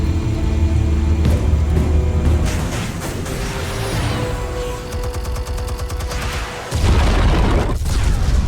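Armed explosives detonating in Batman: The Telltale Series, a loud, dense low boom with crackling bursts that rolls on for several seconds, then a second heavy blast near the end.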